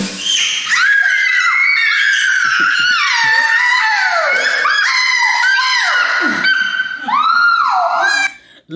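Children scream loudly and continuously with excitement at a gift reveal, piercing high-pitched shrieks rising and falling for several seconds, close to the recorder with a little crowd noise underneath.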